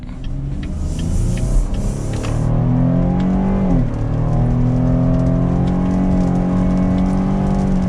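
A 2022 Cadillac XT6 Sport AWD accelerates hard in sport mode from second gear, a loud steady engine roar climbing in pitch, dipping at a shift, then building again under constant road and wind noise.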